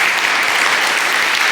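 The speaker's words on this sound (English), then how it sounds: "Give yourself a round of applause" Dense, steady applause from a church congregation, close and loud, filling the moment without a break or any voices.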